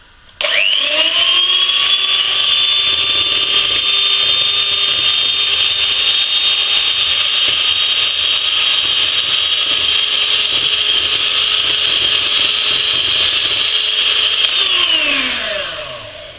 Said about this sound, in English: So I'm going to mix the eggs and the sugar until it becomes really white and you can't feel the sugar inside anymore